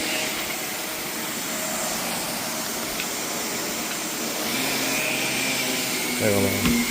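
A short upright vacuum cleaner runs continuously on heavily soiled carpet, a loud steady whine with a brief clunk near the end, with a voice faintly underneath.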